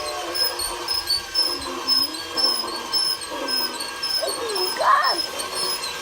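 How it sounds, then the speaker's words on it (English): A Mickey Mouse toy Christmas train runs on its track, making a light mechanical whir with repeated short chirping whistle tones, fairly close, while people talk over it. "Here comes Mickey Mouse train."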